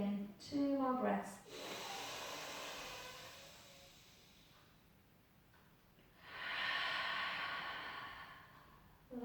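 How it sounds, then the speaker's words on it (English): Slow, deep breaths during a gentle pilates session: a soft, airy inhale followed by a long, hissing exhale, close and unhurried. A brief voiced sigh comes near the start, and a louder rush of breath arrives later. "Take a big breath in, let the belly rise. Exhale, release. And again, 2 more breaths."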